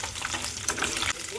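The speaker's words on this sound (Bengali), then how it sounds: "এবার মাছগুলোকে আমি ভালো করে ভেজে নেব।" Small puti fish fry in hot oil, a dense continuous crackling sizzle at close range with brief bursts of spattering.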